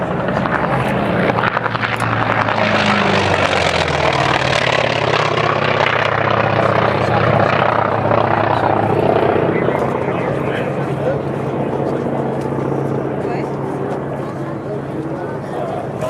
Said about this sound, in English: And here's the AT-6 Texan again.